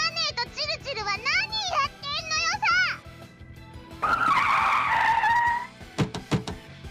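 A black enemy car skids with a sustained screech for about two seconds in the visual novel The Eden of Grisaia, following a stretch of expressive character voices and ending in a few sharp impacts.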